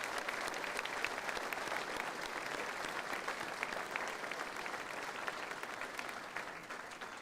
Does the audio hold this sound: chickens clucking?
no